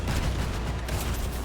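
A vehicle blowing up in the car-combat game Crossout gives a dense, loud burst of gunfire-like blasts and rumble that fills the whole short stretch with no letup.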